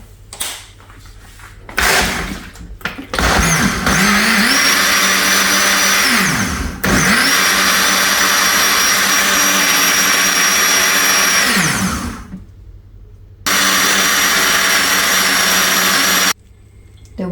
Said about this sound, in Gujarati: આગળ મિક્સરમાં કરી નાખે મિક્સરમાં આમાં કરી નાખે